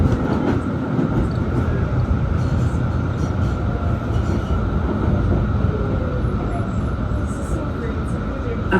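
Steady rumble and rattle of a tram riding along its rails, a continuous close-up drone with faint clicking from the track.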